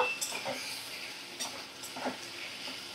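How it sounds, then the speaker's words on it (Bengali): Sesame paste being stirred and fried in a pan for a Bengali vegetable curry, with a soft steady sizzle and scraping stir strokes recurring at intervals, close and fairly quiet. "তিলটা দিয়ে সামান্য একটু দু মিনিটের জন্য একটু নাড়াচাড়া করে নেব"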